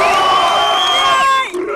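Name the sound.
audience applauding and cheering at rap battle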